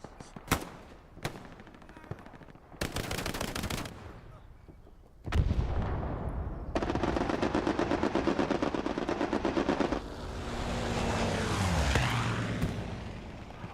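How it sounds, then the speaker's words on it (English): Aircraft machine guns rake troops during a strafing run in the Hell Let Loose game: dense bursts of rapid automatic fire with booming impacts and artillery, loud and sustained, rumbling into the distance. "Always like to see if these strafing runs get at least something."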